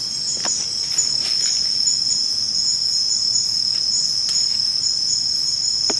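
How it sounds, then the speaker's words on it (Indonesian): Crickets chirp steadily in a forest at night, a dense, continuous high trill that runs on without pause, close and fairly loud, with no voices and only faint background rustle. "Jangkrik"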